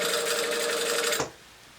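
A sewing machine runs steadily while setting in a sleeve, a close rapid stitching whir with a fast regular pulse that stops abruptly partway through, leaving quiet; no speech.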